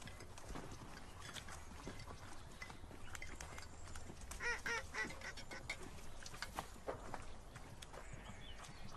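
Donkey hooves clopping on ground in a village scene, a loose uneven rhythm under faint ambient noise with occasional animal or bird calls.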